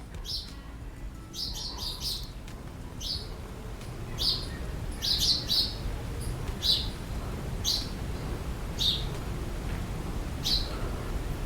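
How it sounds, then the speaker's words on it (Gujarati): Sparrows chirp in short, bright bursts repeated every second or so over a low background hum, outdoors on a courtyard during a temple fair trip. "અને એમાં આ ચકલાઓનો મીઠો મીઠો અવાજ."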